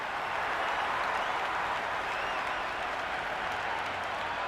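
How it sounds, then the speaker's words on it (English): A cricket ground crowd in the video game Cricket 26 applauds and cheers in a continuous dense roar of clapping, loud and unbroken throughout. "the crowd have joined the party. It's pretty noisy at the ground."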